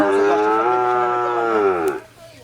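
A single long, loud moo from a Holstein Friesian heifer, with a rich harmonic tone, held for about two seconds before trailing off into quiet.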